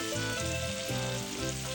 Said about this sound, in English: Once the butter is melted, we're going to add the garlic.